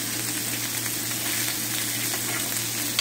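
Salmon fillet and apple grilling in a pan give a steady, close sizzle and frying hiss that runs continuously without pause, with no talking over it.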